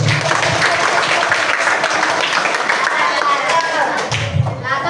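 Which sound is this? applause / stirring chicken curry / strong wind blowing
applause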